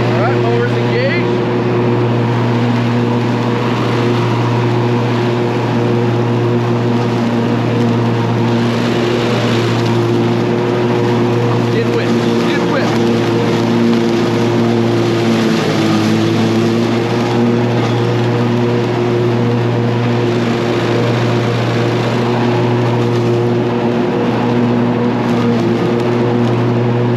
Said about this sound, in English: let us engage the mower. We're set at 4 inches. I think that's plenty for this field. Alright, mower's engaged.